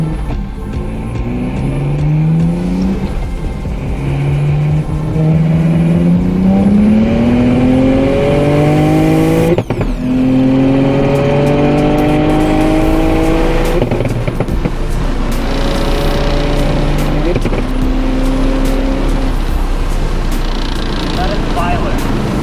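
A single-turbo N54 BMW 135i with a built motor accelerates at high speed, its engine note climbing loudly through several gear pulls. Each gear change briefly breaks the tone, and voices talk over the steady roar.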